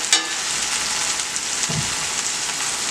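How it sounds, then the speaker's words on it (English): Corned beef, cabbage and rice sautéing in a pan over a low stove, giving a steady, close, loud sizzle throughout with a brief stir-like scrape partway through. "saute for a little bit"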